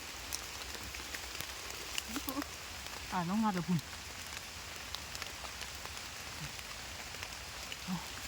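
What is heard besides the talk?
rain falling during mushroom foraging in forest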